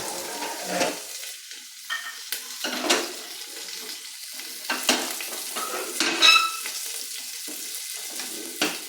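Beef pieces frying in a pan, with a steady sizzle joined by stirring scrapes and occasional clinks of a utensil against the pan, fairly close and without talk.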